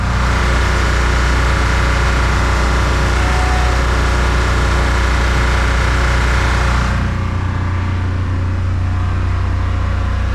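Restored abandoned generator engine, a Deuce, running steadily under load near rated power, a loud continuous hum with strong low harmonics that shifts slightly lower and deeper partway through as the throttle changes.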